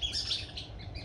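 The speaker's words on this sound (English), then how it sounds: "Dang, all them birds." Many birds chirp and tweet outdoors on a very hot day, a dense, continuous chorus of high twittering calls with a low background rumble beneath, no talk.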